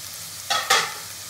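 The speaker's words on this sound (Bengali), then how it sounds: "এদিকে সবজিটা আমার প্রায় ভাজা হয়ে গেছে।" Vegetables frying in a pan, a low steady sizzle broken by two quick loud scraping stirs close by, then settling back to a gentle hiss.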